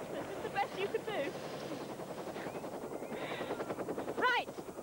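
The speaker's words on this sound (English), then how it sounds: "Must have heard the helicopter coming" A helicopter approaches to land in a 1988 West Yorkshire treasure hunt, a steady rhythmic rotor chop running throughout beneath voices and faint bird calls.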